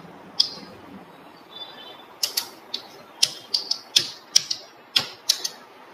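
Someone types a company name on a computer keyboard, producing a sparse run of separate, crisp key clicks spaced irregularly and heard alone, with no talk.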